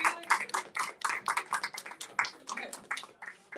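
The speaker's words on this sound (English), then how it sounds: "Give it a round of applause for Camonghne" Scattered audience applause at a book discussion and signing with an author, a brisk run of separate hand claps filling the room at close range without speech.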